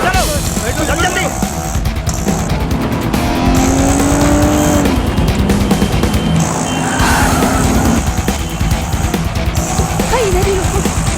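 A car tears away with squealing tires and a roaring, revving engine in a tense chase, loud and close. The skidding screech rises and falls across the stretch over a dense layer of noise, with voices mixed in.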